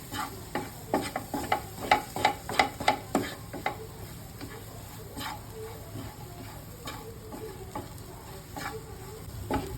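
Onions and spices fry in a pan for an egg curry while a spoon stirs them, producing a quick run of sharp scraping clacks followed by sparser taps over a soft continuous sizzle.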